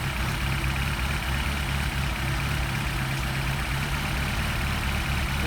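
A Mercedes 190SL engine idles on Solex carburetors, a steady low rumble holding an even, continuous drone with a faint high hiss, close and alone, the revs settling as it runs.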